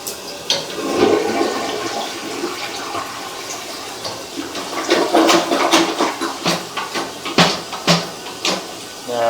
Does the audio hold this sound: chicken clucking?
no